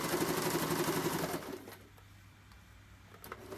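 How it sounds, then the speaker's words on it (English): Sewing machine stitching close to the edge of an ID wallet window, a rapid mechanical whir for about a second and a half that then stops, leaving a quiet low hum. "Now I'm sewing closer to the edge of the ID window so that there's enough room to get your ID in there"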